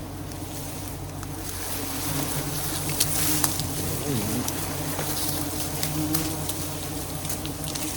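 Giant honeybees swarm around a wild hive, a dense steady buzzing drone with passing whines from individual bees, over constant outdoor background noise.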